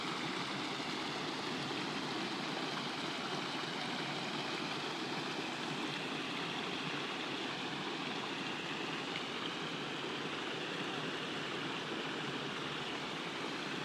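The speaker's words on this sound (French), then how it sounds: "j'ai juste le clapotis, quoique assez fort de l'eau" A fairly loud stream laps and rushes steadily outdoors, a continuous broadband wash of water with no break and no voices.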